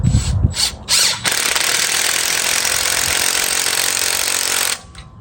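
A valve spring compressor works on the valve springs of a 12-valve Cummins engine: a few short bursts, then a loud, sustained mechanical rattling hammer for several seconds that cuts off abruptly.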